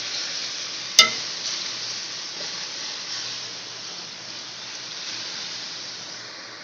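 Spice paste drops into browned ingredients in a frying pan with one sharp clink at the start, then settles into a soft, steady hiss and sizzle as it is stirred, faint and even.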